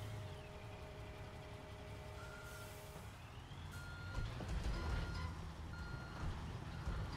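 A truck's reversing alarm beeps in steady pulses in the Construction Simulator video game, backing up on a beach job site with engine rumble and air-brake hiss beneath, no voices.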